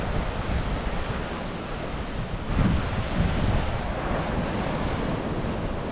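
Ocean surf rolls onto a rocky Los Angeles beach, a broad continuous roar of breaking waves mixed with gusty wind buffeting the microphone, swelling briefly midway, with no talk.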